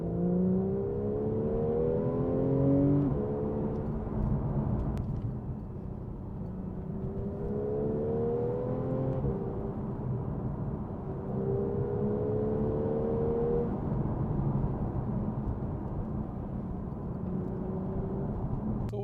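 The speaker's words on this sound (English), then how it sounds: "Take this for a drive to see what it drives like." Porsche 911 Targa 4 GTS of the 991.1 generation driving, its engine rising and falling through repeated revving sweeps with a steady low rumble, heard from inside the car.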